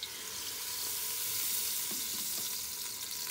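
Cooking oil hisses and sizzles loudly in a hot pan with ground ginger and onion paste, a dense, steady crackle with occasional sharper pops, heard up close and with no voices.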